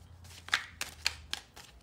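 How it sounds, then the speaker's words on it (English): A few quick riffling bursts of a card deck being shuffled, close and crisp, spaced irregularly over a couple of seconds. "I just kind of shuffle until something, oops, something falls out"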